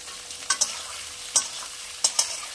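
Vegetables being stir-fried in a pan with a pinch of salt for dhaba-style Rajasthani chana dal, a quiet hiss punctuated by several sharp scrapes and clicks of a spatula against the pan.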